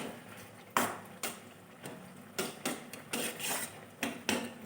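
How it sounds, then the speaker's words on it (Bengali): A metal spatula scrapes and stirs coconut kheer filling in a pan, a series of irregular rasping strokes close up with no voices. "অনবরত খুন্তিটা নেড়ে নেড়ে শীতটা তৈরি করে নিতে হবে"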